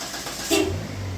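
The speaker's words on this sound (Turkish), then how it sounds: "Ve araç çalıştı." A 2011 DFM Succe car is started with a push-button start-stop system: a brief crank bursts out, then the engine settles into a low, steady idle.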